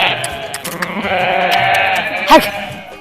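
Several sheep bleat repeatedly amid a busy outdoor din, with one louder, wavering bleat near the end standing out close by.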